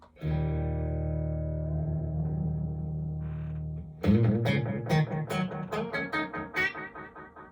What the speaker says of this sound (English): This is pretty much maximum delay time. Pretty short, right? But I'll keep the repeats up, and it becomes almost a pad, right?